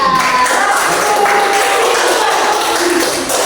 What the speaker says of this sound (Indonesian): Tepuk tangan dulu untuk kelompoknya Rita dan Adelia